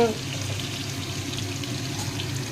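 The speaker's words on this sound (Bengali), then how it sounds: "এই যে আমি এরকমভাবে আলু কেটে তাকে ধুয়ে রেখে দিয়েছি, এই আলুগুলো আমি দিয়ে দেবো" Washed, cut potatoes drop into a hot pan for jeera aloo, a quick splash at the start giving way to a steady, close sizzle of frying.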